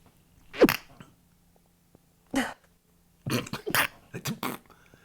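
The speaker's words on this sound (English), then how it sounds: "I'm going to sneeze." A few sharp, abrupt bursts, sneezes or coughs, separated by quiet pauses, the later ones coming in a quick cluster.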